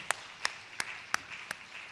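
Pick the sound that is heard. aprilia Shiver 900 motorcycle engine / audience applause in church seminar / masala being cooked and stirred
audience applause in church seminar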